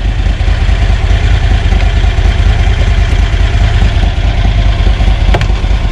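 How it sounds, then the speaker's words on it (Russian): A Lanchin 30 hp engine idles loudly and steadily right after a cold start in freezing weather, a dense continuous low rumble that holds without pause. "То есть я завел и убираю подсос, у меня стали подниматься обороты."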